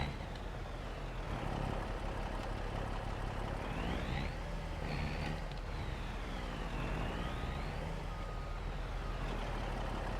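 A big truck in Farming Simulator 25 reverses to park, its engine droning loudly and steadily with a rising and falling whine as it maneuvers, under a continuous rumbling bed of machine noise.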